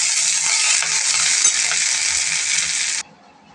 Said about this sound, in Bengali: যে মশলাটা আমি ভাজাভুজি করলাম, পেঁয়াজ রসুন আর কারি পাতা ওটা আমি দিয়ে দিলাম, দিয়ে নাড়াচাড়া করে নিলাম।